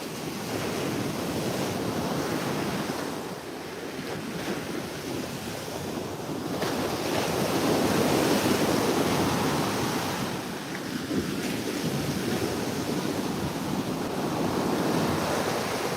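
Hurricane-force wind roars across a South Jersey beach with crashing surf, a loud, unbroken blast of microphone buffeting and wave wash that swells and eases over time.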